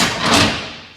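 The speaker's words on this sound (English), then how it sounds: "Your entry door step slides and then flips" A single hollow metallic thud as the entry door step of a 2013 Koala 25 DS RV slides and flips into place, loud and close, with a short ringing tail fading out.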